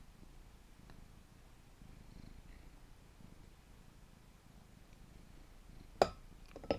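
A cat purrs in a soft, steady, low rumble close by, faint but continuous, with a couple of brief glassy clinks near the end.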